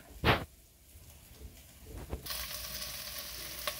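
Bacon fries in a pan with a little butter, giving a soft broadband sizzle that swells louder in the second half, with a sharp clatter near the start and occasional stirring scrapes.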